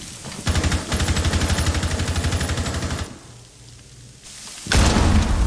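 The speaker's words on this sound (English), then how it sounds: "He C4'd himself right off the map." A C4 charge blows up during a Rainbow Six Siege pro league match: a loud, sudden blast near the end, following a long stretch of rapid, rattling gunfire and a quieter lull.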